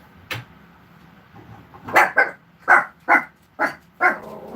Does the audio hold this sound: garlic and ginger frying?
no